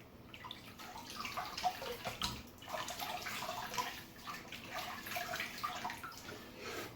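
Water from a tap runs and splashes as shaving lather is rinsed off, a soft, steady, close trickle with small irregular splashes throughout.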